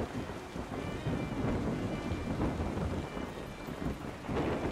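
Thunderstorm at sea in the video game Yonder: The Cloud Catcher Chronicles, with a steady roar of rain and wind and low rumbling thunder swelling throughout, loud and continuous with no talking.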